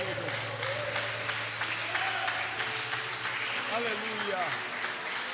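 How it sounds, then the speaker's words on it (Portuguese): Church congregation at an evangelical temple festival clapping for Jesus under ongoing talk, the clapping a soft, continuous patter beneath a voice that exclaims in praise, with a sung or sustained tone weaving through. "aplauda o nome do Senhor Jesus"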